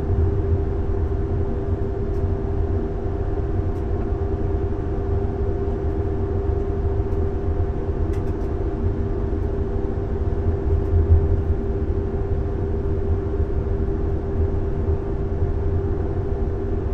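From inside a French locomotive cab, a train runs on with a steady low rumble and constant engine drone, continuous and even throughout, with faint rattles and no voices.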